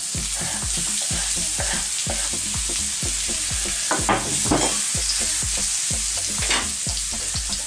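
Finely chopped garlic and onion with spices cooking over fairly high heat, steady loud sizzling under a fast, regular scrape-and-clatter of stirring against the pan, with a few brighter crackles midway.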